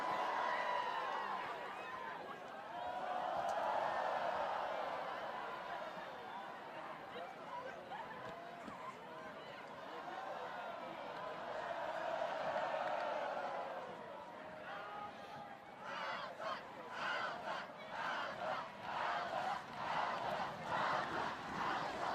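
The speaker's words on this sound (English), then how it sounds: "the Alta Hawks crowd, no hesitation. They are right back into it and rowdy again here" High school football crowd of Alta Hawks fans cheering rowdily in the stands, a broad roar that swells and dips, with chatter and a commentator talking over it near the end.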